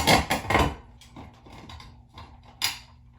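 Hexagonal bolt on a light fixture being unscrewed overhead while its weight is held up, with a few sharp ratcheting clicks and creaks and scattered metallic knocks, close and uneven.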